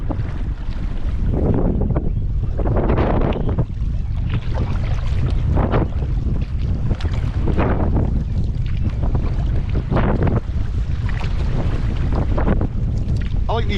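Strong tailwind buffets the microphone in heavy, gusting rumbles during solo sea kayaking off the west coast island of Kerrera, with water washing and splashing against the boat throughout.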